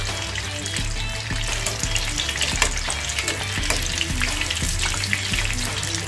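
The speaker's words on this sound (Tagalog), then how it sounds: "kailangan din natin paliktarin yung ating piniprito" Pork spring rolls deep frying in hot oil make a loud, continuous sizzle and crackle up close, with occasional stirring clinks and no talking.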